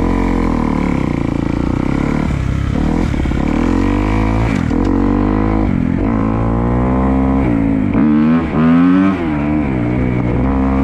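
A car engine runs continuously at a loud, close idle, with a steady rumble that shifts slightly in pitch as it is put in gear, just before it stalls.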